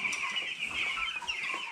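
Ten-day-old Cobb 500 broiler chicks in a brooder, a steady chorus of high, continuous peeping and cheeping from many birds close by.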